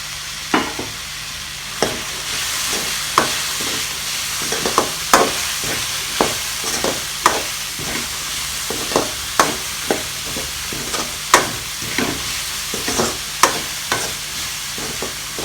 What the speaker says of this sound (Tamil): இந்த கேரட் பீன்ஸ் வந்துட்டு எண்ணெயிலே நான் ஒரு 4 நிமிஷம் வதங்கட்டும்.